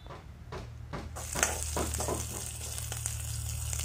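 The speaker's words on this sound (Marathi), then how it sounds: "ते आपल्याला थोडंसं फ्राय करायचं आहे" Chopped garlic and green chili hitting a hot pan for a crispy okra dish, a few soft knocks then a sudden bright sizzle that keeps going steadily, close by with a low hum underneath.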